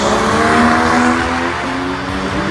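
A 2-litre turbocharged rally car making 350 hp drives past with a loud, steady engine roar and strong harmonic whine, its pitch shifting as it accelerates, with a hint of tire squeal.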